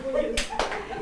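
A group of people clap in two quick sharp bursts at a motivational masterclass, close and loud under ongoing speech.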